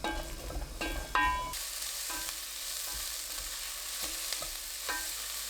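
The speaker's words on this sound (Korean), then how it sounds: "냄비에 식용유 1큰술, 양파 넣고 센 불로 1분 30초 볶아주세요." Onions stir-fry in a tablespoon of cooking oil in a pot over high heat, a spatula scraping and clattering at first before a loud, steady sizzle takes over, broken by occasional stirring knocks.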